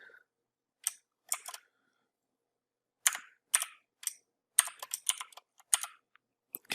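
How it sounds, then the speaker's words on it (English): Sparse keystrokes on a computer keyboard, clicking in short clustered bursts with pauses between them, close and fairly quiet, with no one talking. "I'll type something like"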